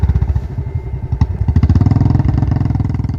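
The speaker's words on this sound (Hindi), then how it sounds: "फिर हम बाइक स्टार्ट करके आगे शिरडी के लिए निकल पड़े।" A motorbike engine on a road trip toward Shirdi, India, revs up and settles into a loud, steady pulsing throb as the bike pulls away, heard close and alone with no talk.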